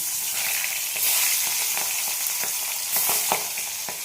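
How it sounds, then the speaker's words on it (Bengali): Small tengra fish fry in hot oil in a wok with a bright, constant sizzle, broken by sharp spatter pops and the scrape of stirring that come in short bursts. "দেখো আমি তেল দিয়ে দিচ্ছি কড়াইয়ে, মাছ ভাজবো।"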